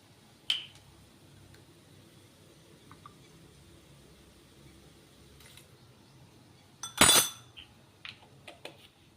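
A metal spoon clinks sharply against a dish as a spoonful of vinegar goes into a Maggi spring roll filling, a few light taps and one louder cluster of clinks over a quiet kitchen.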